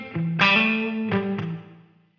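A short run of distorted electric guitar notes, four or five picked in quick succession, blooms and fades through a Line 6 Helix tile reverb, tailing off over about two seconds.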